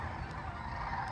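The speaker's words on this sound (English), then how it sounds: "Maybe they're geese?" Geese honking during flight migration, a single brief honk bursting out loud at the very end after a steady low ambient wash.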